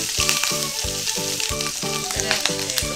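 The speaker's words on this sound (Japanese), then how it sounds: "で、あと同時にここでベーコンを炒めます。" Bacon and crushed whole garlic cloves fry in a pan over medium-low heat, a steady close sizzle with a faint crackle, heard under background music that has a regular beat.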